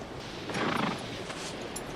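A horse neighs in a 1993 action film scene, a brief breathy whinny rising over a muffled ambient background, moderately loud and heard alone.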